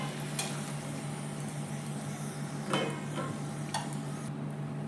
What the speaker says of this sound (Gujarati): તો આ રીતે નાખી આપણે તળી લેવાના છે